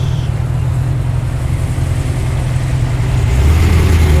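A Subaru WRX engine rumbles loud and close at a street car gathering, a dense steady low idle that swells slightly louder near the end as it revs.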